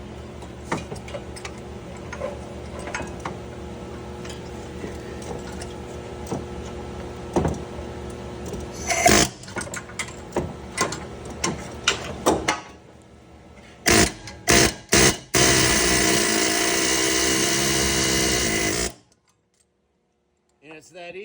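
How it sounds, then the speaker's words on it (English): An air chisel with a ledged bit works the clutch fan nut on a Dodge 3.9L engine. Ticking and tapping come first, then several short pneumatic bursts and a sustained loud hammering run lasting about five seconds before it stops abruptly. "I'm using a air chisel bit with like a little ledge that fits right in."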